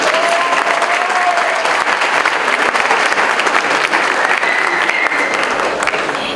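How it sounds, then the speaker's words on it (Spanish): An audience at a university presentation on violence applauds steadily, a loud even wash of many hands clapping for several seconds with little else heard. "Fuerte los aplausos"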